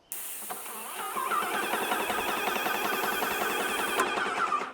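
A Graco or Titan line marking machine spraying paint at 2000 PSI gives a steady, fairly loud mechanical whine with a hissing edge, starting abruptly and building to a constant drone before trailing off.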